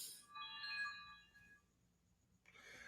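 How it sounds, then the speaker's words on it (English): A phone ringtone plays a short electronic melody of clear tones for about a second and a half, faint and alone, then a brief noise follows. "My phone's been going off the hook all night since the show started."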